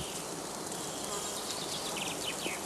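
Honeybees buzz in a dense, continuous swarm hum as they fly out from heather straw skeps at an apiary, close and steady throughout.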